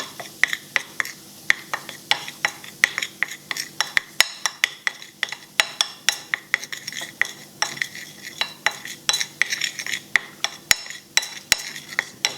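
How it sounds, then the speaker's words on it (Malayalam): A spoon stirs a lemon juice and baking soda mixture in a small container, making rapid, regular clinking and scraping strokes that repeat steadily and fairly close for the whole stretch, with a faint fizzing underneath. "ഇതൊന്ന് ചെറുതായിട്ടൊന്ന് ഇളക്കുക"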